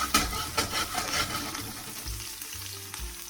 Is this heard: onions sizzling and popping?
yes